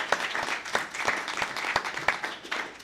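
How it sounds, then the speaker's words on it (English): An audience applauds two panelists at the close of a medical marijuana talk, dense steady clapping with sharp individual claps popping out near the front, even in level throughout. "let's get a round of applause for our two panelists"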